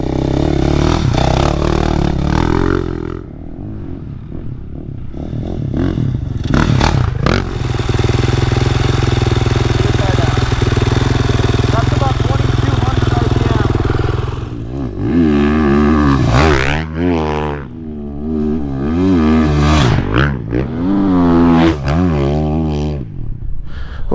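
A 2021 GasGas EX-450F dirt bike roars close and loud, then fades, before sweeping past again with sharp revving surges and throttle blips that rise and fall as it flies by.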